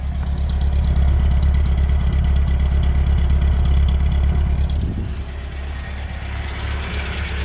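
A 1984 Chevrolet C30 truck with an L20B engine and an aftermarket cam idles close by, a loud, steady, rumbling run that eases slightly in level partway through.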